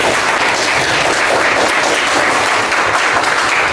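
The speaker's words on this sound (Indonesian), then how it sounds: "beri aplaus untuk kita semua hari ini" A classroom of students gives a burst of applause, loud, continuous clapping from many hands that fills the whole moment with no speech.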